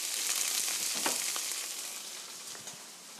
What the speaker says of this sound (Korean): 밀가루가 노릇노릇하게 익을 때까지 볶아주세요